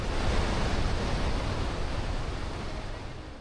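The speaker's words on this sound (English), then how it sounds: "water crushing on all sides and wind in your face" Roar of the Rhine Falls at Schaffhausen heard from close by, a loud, dense and unbroken rush of crashing water with no voices.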